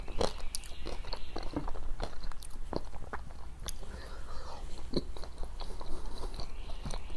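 Someone bites into and chews crispy baked garlic fries up close, with steady crunchy chewing and mouth sounds throughout, faint background noise and no talking.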